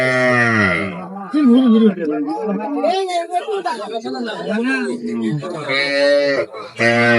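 A cow, sold with its calf at a rural cattle market in Aftabganj, Dinajpur, moos loudly in long drawn-out calls at the start and again near the end, while people chatter and bargain nearby.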